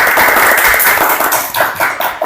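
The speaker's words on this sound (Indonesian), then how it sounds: "Kita kasih tepuk tangan yuk biar mereka semangat." A classroom of students claps together in a dense, continuous burst of applause for a presenting group during a lesson. The clapping is loud and close, and it holds steady for about two seconds.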